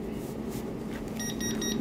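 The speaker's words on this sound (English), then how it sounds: "When the time is over, you can hear the beep that the sublimation is ready now." A 3D mini vacuum sublimation press, model ST1520, gives a few short, high beeps near the end to signal its cycle is finished, heard faintly over a steady low machine hum.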